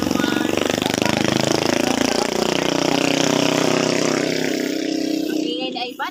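A motorcycle engine roars close by on a rural provincial road, loud and rattling, holding steady before fading away near the end.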